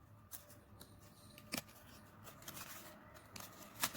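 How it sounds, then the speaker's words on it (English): Paper scissors snip along marked lines of a paper circle for a Diwali LED tealight candle holder, a few quiet, scattered cuts and rustles in a hushed room. "Now cut the marked lines again and make sure that you don't cut the arc of the circle 2 cm."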